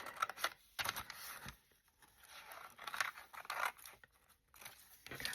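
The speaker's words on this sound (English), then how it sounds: "I'm going to start off by cutting this straight off here." Scissors cut through decorative paper for art trading cards, a series of crisp snips and rustling tears in irregular bursts, close and moderately quiet, with no talking.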